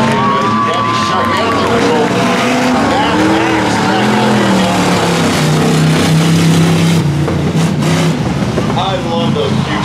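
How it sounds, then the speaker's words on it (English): Big demolition-derby cars and SUVs racing and sliding around a track at a Car Wars derby qualifier, loud engines revving and whining under continuous announcer commentary and crowd noise. "Slide those big cars around the track."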